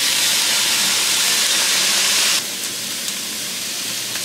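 Light soy sauce hitting a hot wok during a Cantonese pork chow mein stir fry, a loud rushing sizzle and hiss that drops suddenly to a quieter steady sizzle, close and without talk.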